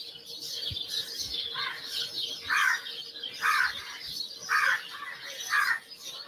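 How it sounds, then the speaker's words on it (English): A bird calling repeatedly outdoors, a series of about five evenly spaced, moderately loud calls over a steady background hiss. "That bird sounds creepy."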